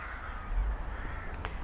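Rooks at a rookery beside a campervan parking spot give a couple of short, rasping caws over constant background hiss, fairly distant and brief.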